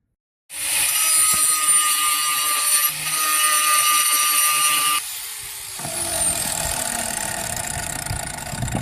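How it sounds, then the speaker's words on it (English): Loud, steady whine of a power tool cutting out a dinghy motor mount during boat preparations, running continuously close by and shifting pitch partway through as the cut changes, with no talk over it. "Jenny's cutting out the dinghy motor mount."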